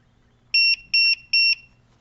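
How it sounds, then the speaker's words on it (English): A QR code scanner module sounds three identical electronic beeps, each about a fifth of a second long and evenly spaced, sharp and close against near silence. "I can change the length of the little beep that it makes."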